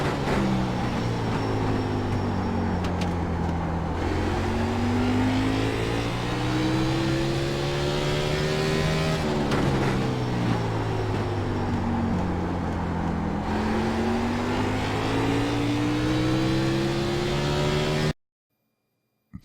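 A simulated race car in iRacing laps Martinsville, its engine droning steadily and loudly, dipping under braking into the turns and climbing again on the straights twice over, then cutting to silence at the end.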